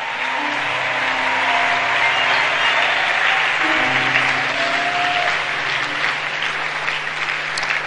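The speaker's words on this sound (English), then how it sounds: "I said give the King of Kings a clap offering." A church congregation claps together as a clap offering, sustained loud applause lasting the full eight seconds, with faint voices and a low hum beneath the clapping.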